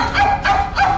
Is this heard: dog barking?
yes